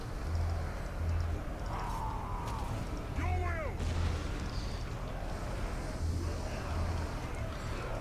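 Battlefield gunfire and artillery rumble in Total War: Warhammer II, a dense low roar of shots and booms with someone talking over it.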